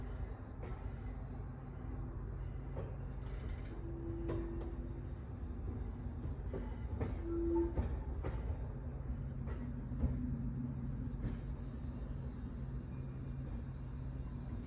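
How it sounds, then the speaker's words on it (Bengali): A train passes behind a house with a garden in Belgium. Its soft, distant rumble is steady and quiet, and no talking is heard over it. "অনেক ট্রেন যায় আমাদের বাসার পিছন থেকে"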